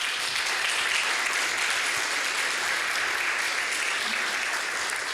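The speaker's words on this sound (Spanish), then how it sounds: "Denle un aplauso al Señor por eso." Continuous applause from a church congregation during a Spanish-language sermon, a dense, even wash of many hands clapping that holds steady throughout.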